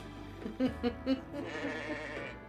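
Sheep bleating in the Fire Emblem Engage video game, three short, close bleats in quick succession over a steady game music bed.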